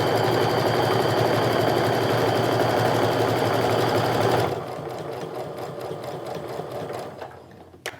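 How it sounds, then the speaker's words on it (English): A sewing machine stitches down the sides of a bag pocket with a 1/8-inch stitch, running loud and steady for about four and a half seconds before dropping to a softer, quieter whir. "Now I'm going to use that 1/8 of an inch stitch to stitch down the sides of that pocket"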